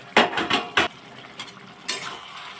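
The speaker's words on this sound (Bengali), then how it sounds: "ঢাকনাটা খুলে দেখে নেব।" A metal pot lid lifted off a simmering fish-head and pumpkin curry, giving a few quick clinks and scrapes close by, then a soft rattle as it settles.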